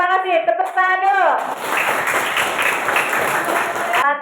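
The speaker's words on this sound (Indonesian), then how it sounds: "Tepuk tangan dulu." A classroom of students clapping their hands in a burst of applause, dense and steady for a few seconds after a voice speaks at the start, with more talk resuming at the end.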